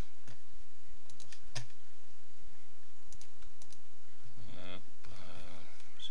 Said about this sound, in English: you can type in